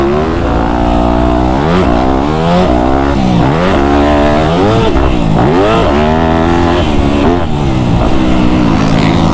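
A Yamaha YZ250F dirt bike tears around a groomed, watered motocross track, its four-stroke engine loud and close throughout, revving up and down in repeated rising and falling sweeps as the rider works the throttle.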